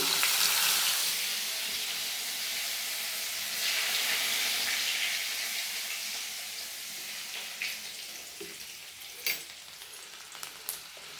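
A loud, steady sizzle of chopped garlic frying in butter in a pan, easing off gradually, with a few scraping clinks of a utensil near the end.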